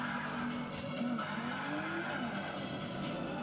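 Continuous tire skidding and engine noise from a car in the racing game Forza Motorsport 5, loud and steady with wavering squeal tones throughout, no talking.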